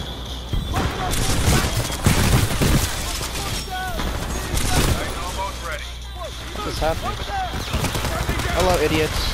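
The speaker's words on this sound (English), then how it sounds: "Who is shooting me?" Video game gunfire crackles in repeated bursts and volleys through most of the stretch, fairly loud, with a steady mid-level din and some background game noise underneath.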